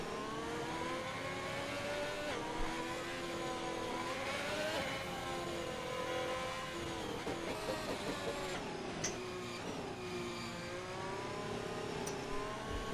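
Engines of F1 cars in a video game at the Saudi Arabia circuit rev and accelerate out of the pit lane, a continuous whining drone with rising pitch sweeps and small bursts, moderately loud and steady throughout.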